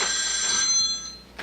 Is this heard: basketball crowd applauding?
no